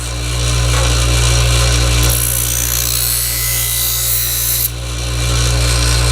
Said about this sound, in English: So there's the blade before I run it through.